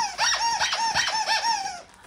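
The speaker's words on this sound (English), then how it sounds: "make sure you have your sound turned down when I squeak these toys" A squeaky dog toy is squeezed about seven times in quick succession, each squeak loud, close and wheezy, with no talking.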